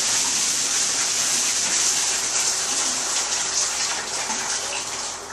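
Shower water running steadily, a constant close hiss of spray and splashing that fades slightly toward the end, with no voices.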